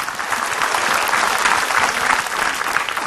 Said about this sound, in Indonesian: Tepuk tangan dulu buat Kak Nabila.